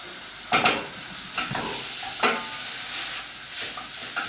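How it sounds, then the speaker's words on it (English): Satay marinade cooking in a saucepan sizzles steadily while a utensil stirs it in several short scraping strokes, close and fairly loud, with no talking. "the marinade that you saved is going into the saucepan. Leave the marinade to cook for about a minute."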